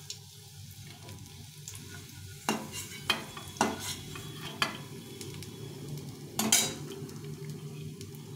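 Fish oil fritters (machher teler bora) fry steadily in hot oil with a continuous low sizzle. Several sharp clanks of a utensil against the pan sound close by, including a louder clatter near the end, and no one speaks.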